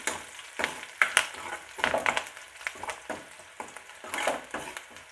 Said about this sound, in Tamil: கருவேப்பிலையும் சேர்த்து நல்லா வதக்கிக்கிடுவோம்